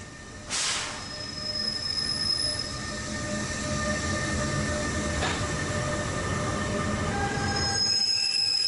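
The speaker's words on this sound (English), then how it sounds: "Once the passengers are on board, the 4643 pushes the train towards Trenton." Amtrak ACS-64 locomotive 4643 pushes a passenger train toward Trenton, with steady rolling rumble, a loud sustained wheel squeal, and a brief screech near the start.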